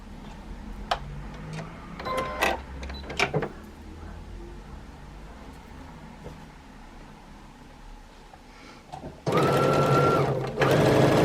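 A sewing machine stitches jelly roll quilt pieces with front sides together for a picture-frame quilt, whirring loud and close in a steady burst near the end after quieter handling clicks and rustles.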